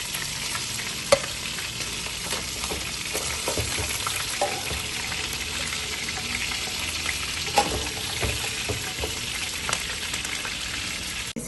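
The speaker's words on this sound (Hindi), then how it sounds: "इसी ऑयल में हमने शलजम डाल के इनको भी फ्राई कर लेना है।" Turnips sizzle and crackle in hot oil that was just used for frying chicken, a steady close hiss with occasional louder pops and stirring clinks, and no talking.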